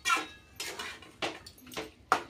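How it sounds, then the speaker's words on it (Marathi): A spoon stirs usal bhaji, a spiced sprouted-bean curry, in a metal pan, making about five separate scraping clanks at an uneven pace, close and moderately loud, with no voices. "आता असं छान प्रकारे आपण याला मिक्स करून घेऊया, म्हणजे सगळं एकजीव होऊन जायचं मसाल्यामध्ये."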